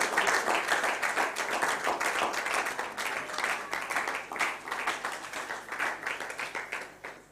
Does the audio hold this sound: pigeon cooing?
no